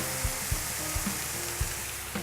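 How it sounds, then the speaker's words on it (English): Chopped tomatoes with onions and garlic sizzle steadily in a hot frying pan, with a few soft knocks and clinks of a utensil stirring at irregular intervals. "our onions and garlic have gone from frying to now boiling with the tomatoes"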